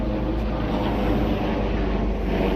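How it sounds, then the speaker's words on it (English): A helicopter flies overhead on a sunny day in Italy, a steady broadband rotor and engine drone that holds at a constant, fairly loud level throughout with no voices. "helicopter, we haven't seen too many of those"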